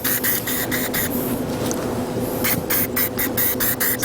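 Spray paint hisses from a can onto glass vases in repeated short bursts, with a steady broadband wash between strokes, close and loud.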